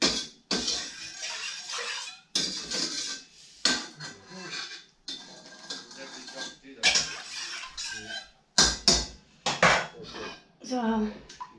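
Cold water is poured into a metal pan of sugar and pea pods for homemade peapod wine, splashing and sloshing in uneven bursts with clinks of the pan close by.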